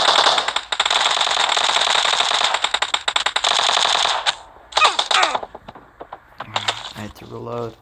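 Rapid automatic Uzi gunfire in a shooting video game, long dense bursts of loud rattling shots with brief pauses, followed by scattered clicks and mechanical reload-like sounds near the end.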